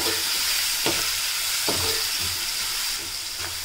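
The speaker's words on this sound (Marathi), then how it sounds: "कांदा आणि लसणासोबतच आपल्याला टोमॅटो सुद्धा चांगला शिजवून घ्यायचा आहे" Chopped tomato cooking with onion and garlic in a pan for a dried-fish curry, giving off a loud continuous sizzle and hiss, with a few stirring scrapes at intervals, close up and with no talking.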